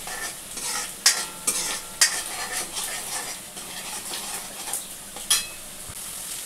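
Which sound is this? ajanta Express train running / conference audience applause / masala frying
masala frying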